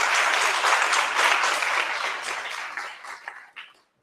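Workshop audience applauding, a dense burst of many hands clapping loudly that gradually thins out and trails off into a few scattered claps.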